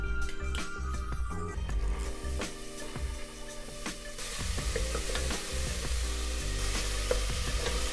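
Garlic frying in olive oil in a pot, a steady close sizzle with scattered crackles and sharp clinks of stirring, continuing throughout with no talking.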